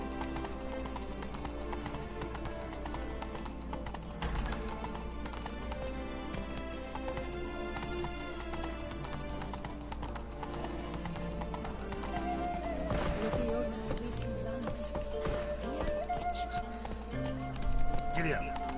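The horse Roach gallops in The Witcher 3 with rhythmic clip-clop hoofbeats, steady and mid-distance, running beneath a constant bed of game music and ambience while someone talks over it.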